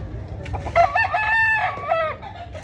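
A rooster at a poultry expo in Consolacion, Cebu crows loudly and close, one drawn-out call, with other fowl clucking faintly in the background.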